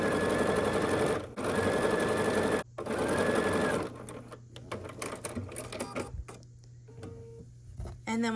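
A home sewing machine stitches quilt block pieces in three loud, steady runs of rapid mechanical chatter with brief pauses between them, then gives way to quieter clicks, thread handling and faint talking.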